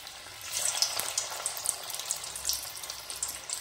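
Batter-coated cauliflower pakoras bubble in hot oil, a soft, continuous fizzing with small crackling pops near and fairly quiet, no voices present.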